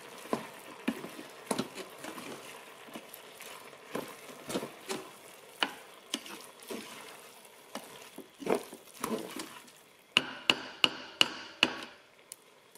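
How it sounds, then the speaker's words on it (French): A spoon stirs a cooking dish in a pan, giving a quiet series of soft scrapes and taps at irregular intervals, ending with a brief run of quick clinks. "Ensuite vous mélangez."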